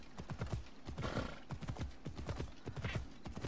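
A horse gallops along a shoreline in the video game Assassin's Creed Odyssey, with steady, rapid hoofbeats continuing throughout at moderate volume.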